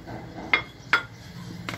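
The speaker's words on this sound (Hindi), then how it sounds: "अब हमने एक बड़ा बोल लिया है, इसमें हम ये डाल रहे हैं पकौड़ियाँ उबली हुई हैं ये, और ये हैं आलू और चने, इनको भी मिक्स कर रहे हैं हमने।" Faint clinks of a utensil against a big bowl as boiled pakoras, potatoes and chickpeas are mixed for chaat, a few separate taps over a low background.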